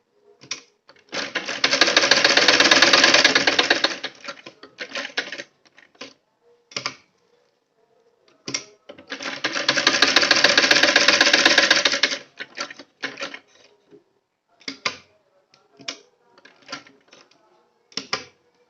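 A sewing machine stitches a sleeve along a marked line in two long steady runs of rapid needle chatter, each several seconds long, separated by short clicks and handling sounds, with no talking.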